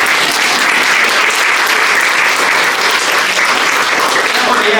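Steady applause from a group during a nursing practical session on patient transfer, loud and close, filling the full stretch without a break and with no talk over it.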